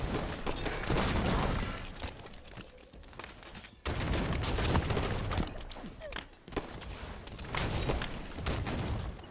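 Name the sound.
sniper rifle shots in Halo 5 video game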